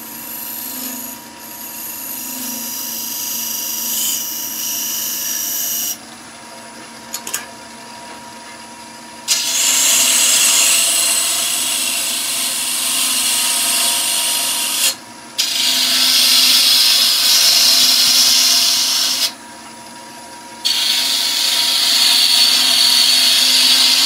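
Wood being turned on a lathe, a skew chisel tidying up a turned surface: steady rasping, scraping hiss in close repeated passes lasting several seconds each, separated by brief quieter pauses of motor hum.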